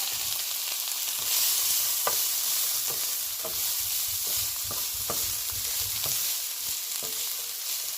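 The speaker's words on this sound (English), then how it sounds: "Just stir it up." A spoon stirs jerk shrimp pasta ingredients and seasoning in a sizzling pot, with irregular scraping knocks against the pot over a constant frying hiss, close and clear with no talk.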